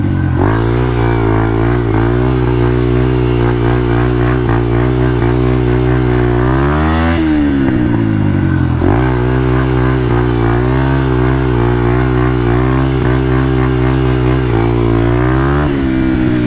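A carbureted motorcycle on knobby tires drifts with its engine droning loudly and steadily close by, and the revs dip sharply and climb back twice as the throttle is worked.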